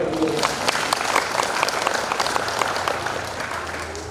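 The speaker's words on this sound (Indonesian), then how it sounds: "Tepuk tangan dong" Audience applause at a community prayer gathering for families of victims of the Kanjuruhan tragedy in Malang, a dense, steady wash of many hands clapping close by, holding for the full length and easing slightly at the end.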